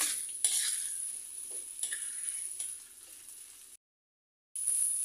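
Onion paste stirred into soybean masala in a pan, a soft close sizzle with intermittent spatula scrapes, a brief full silence near the end before it resumes.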